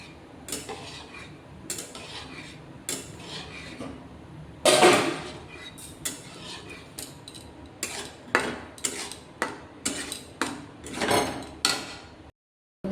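Semolina cooked with milk is stirred in a pan until it thickens into a dough, giving a run of clinking, scraping spoon-on-metal knocks in an irregular rhythm, close and moderately loud, with no voices.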